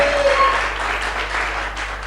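An audience at a gospel music show applauds a singer, a broad continuous wash of clapping over a low steady hum, with a brief tonal sound near the start.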